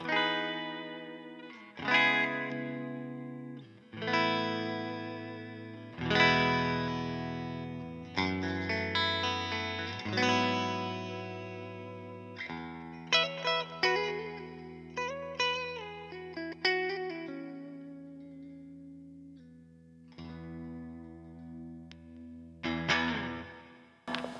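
Clean electric guitar on a Fender Player II, neck pickup position, with chorus-like shimmer plays plucked chords and single notes, each ringing out and decaying, with brief pauses between phrases.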